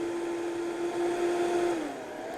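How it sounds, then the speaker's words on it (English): A blender whirs on high, blending herbs and chives for green goddess dressing, a steady motor whine with a sustained pitch that dips slightly as it settles, no talking over it. "Back up on the blender."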